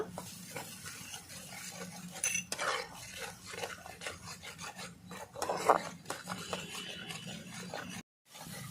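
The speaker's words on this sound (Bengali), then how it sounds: "একই সঙ্গে দিয়ে ভালো করে মশলাটা আমি এক থেকে দেড় মিনিট ধরে কষিয়ে নেব" A spice masala with pasted whole tomato is stir-fried in a pan with a spatula, making continuous close scraping and rasping strokes with brief metallic clinks, irregular and busy throughout.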